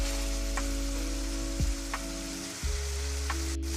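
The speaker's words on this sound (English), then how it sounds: "we're just going to continue to cook our ground beef until it's browned all the way through" Ground beef browning in a pan for a stuffed pepper casserole, a steady sizzle with a couple of louder bursts and a few spoon taps, heard alone.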